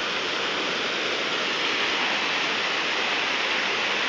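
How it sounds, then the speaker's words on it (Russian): Waterfall at Lake Glubokoye roaring steadily and loudly up close, a dense unbroken rush of falling water with no voices. "Вот такой вот он водопад. Шумит, гремит и несется вниз."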